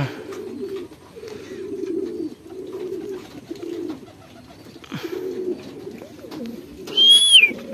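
Pigeons or doves coo in low, repeated rolling phrases, close by, ending with a brief higher chirp; no one speaks.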